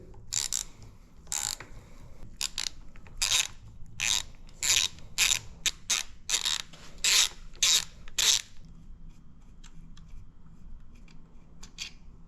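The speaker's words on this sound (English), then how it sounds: "Now we're going to remove what's called the stiffener plate right here with an 8mm." Hand ratchet backing 8mm bolts off the stiffener plate during a teardown of a 4L65E transmission, a run of quick, close clicking bursts for about eight seconds, then quiet.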